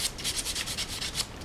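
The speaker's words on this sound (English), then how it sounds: "So go over the entire thing once more with the fine sandpaper." Fine sandpaper rubs back and forth over a wooden scoop handle, a rhythmic series of soft scratchy strokes, roughly two or three per second, close and fairly quiet.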